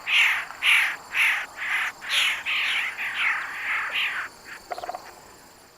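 A red-headed woodpecker calling, a rapid series of harsh, repeated churring notes with a brief rattling burst at the end.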